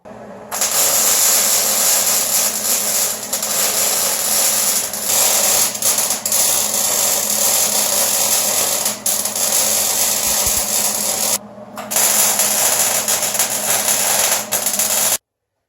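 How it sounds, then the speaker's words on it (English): Welding a Foxbody Mustang lower radiator support, giving a loud, continuous close crackling buzz that breaks briefly near the end and then resumes, with no talking. "And if not, it's time to go welding."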